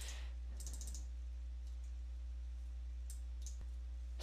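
Computer mouse clicks on a Windows PC during file recovery: a quick cluster of light clicks early on, then two more sharp clicks near the end, faint and close over a steady low electrical hum, with no talking.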